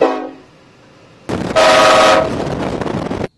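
A loud, blaring train horn blast from a tow truck, with a harsh, brassy tone, sounding close, preceded by a brief fainter tone and cut off abruptly after a couple of seconds.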